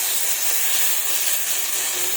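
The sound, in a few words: figs frying and being stirred in pan with spices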